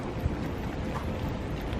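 Strong gusty wind blows outdoors near a tent in a wooded spot, a steady roaring rush with fluttering bursts against the microphone.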